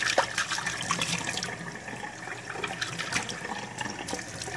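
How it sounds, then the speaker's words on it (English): Water runs steadily from a kitchen sink tap in a continuous splashing rush for several seconds, close by, with no one speaking. "Come over here to my sink, where I turn on the water,"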